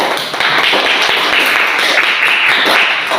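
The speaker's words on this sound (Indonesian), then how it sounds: "kasih dulu aplaus, tepuk tangan untuk teman kelompoknya." Classroom students' clapping starts at once and stays constant and full for a few seconds, many small sharp claps merging into one dense patter.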